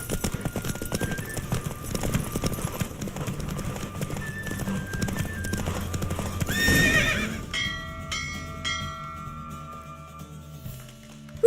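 A galloping horse in The Witcher 3 video game, racing through Novigrad: rapid hoofbeats and a loud neigh midway, then the gallop gives way to bells and music with no speech.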